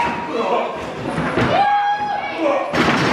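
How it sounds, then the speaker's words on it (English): A wrestler hits the ring mat with a heavy thud from a German suplex, one loud impact under fast commentary and crowd noise. "German suplex for Rexx Wylde."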